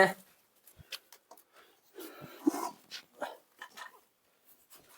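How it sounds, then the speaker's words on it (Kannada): A dog whimpers and yips in short bursts close by, mixed with someone talking intermittently over otherwise quiet surroundings. "ಇದು ಸ್ವಲ್ಪ ಇಂಗ್ಲಿಷ್ ನಾಯಿ"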